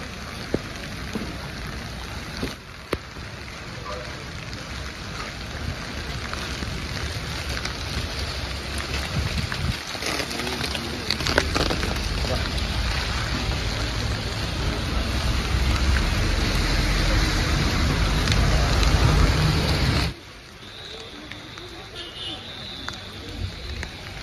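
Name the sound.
rain falling on pilgrims during Arunachala hill circumambulation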